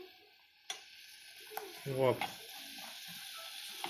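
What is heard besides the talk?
hotcakes sizzling in a frying pan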